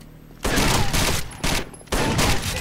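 Three loud bursts of automatic gunfire in the Rainbow Six Vegas 2 shooter game, separated by short pauses, with a quieter background between volleys.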